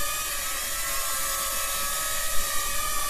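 A DEERC D23 mini drone hovers just after takeoff, its small motors and propellers giving a steady, high-pitched whirring whine with a layered buzzing tone, close and constant throughout.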